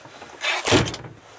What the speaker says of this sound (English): you go in the back door like that. That is actually a PVC double glazed door.